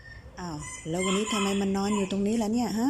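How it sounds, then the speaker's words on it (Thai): A rooster crowing close by in one long, loud call, with a person speaking at the same time. "เจ้าไก่นี่มันก็ขันเรียกอยู่นั่นแหละ"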